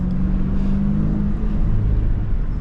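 Engine of a Dodge Scat Pack widebody pulling hard at full throttle in low gear, a deep, steady low rumble heard from inside the car, loud and continuous with no talk.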